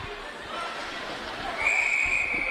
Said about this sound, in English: Whistle eventually comes in as the sticks are wrapped up